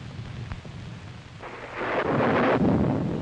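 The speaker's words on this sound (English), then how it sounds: "You probably noticed there's a bad storm going on." Deep rolling thunder builds and swells into a loud, sustained rumble mixed with the hiss of heavy rain.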